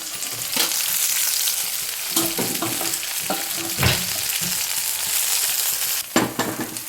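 Sesame oil sizzles and fries steadily in a kadai while ingredients for a pirandai (adamant creeper) thuvaiyal are stirred and sautéed, with scattered scraping knocks from the stirring and a brighter burst of sizzle near the end.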